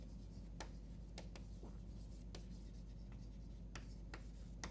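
Chalk or marker writing on a board during a physics lecture, a series of short, quiet scratching strokes repeating at irregular intervals over a steady low hum.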